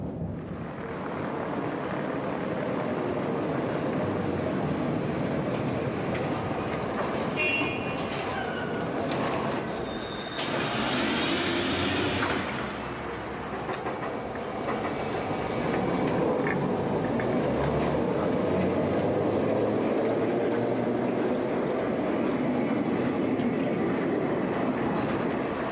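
Old East German trams rumble steadily along rails for the whole stretch, with metallic wheel squeals rising briefly midway. No voices.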